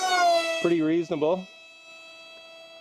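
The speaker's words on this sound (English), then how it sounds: "Okay, so I think that was my alarm here." An electronic alarm sounds a steady, sustained tone during an FPV quadcopter field test. A voice briefly talks over it before the tone continues alone, fainter.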